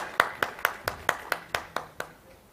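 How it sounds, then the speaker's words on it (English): A single person claps for a speaker at a plant-based foods trade show, about ten close, crisp hand claps in an even rhythm, slowing and softening slightly before stopping. "A huge round of applause for Deepak"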